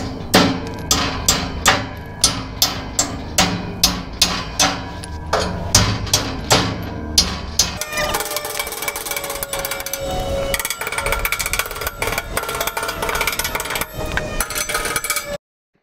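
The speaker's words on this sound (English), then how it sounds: "Now we can hit all the screw heads. They're all so rusted in," A hammer strikes the rusted-in screw heads on a trailer frame with its deck boards removed, a quick regular series of sharp metallic blows up close, then gives way to denser scraping and knocking work noise.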